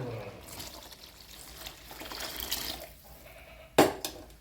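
Water pours steadily into a cooking pot of mutton gravy with a soft trickling rush, ending in a sharp clatter near the end.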